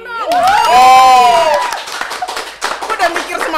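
An audience claps and cheers loudly at close range, a burst of shouting and whooping followed by scattered clapping and voices for a few seconds.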